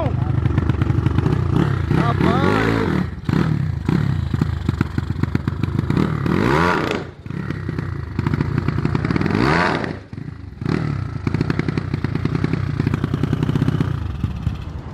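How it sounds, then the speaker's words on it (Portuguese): An ML 287cc motorcycle engine revs hard up and down in repeated loud bursts close by, with short pauses between, while people talk over it. "Pra evitar ficar acelerando a moto aqui"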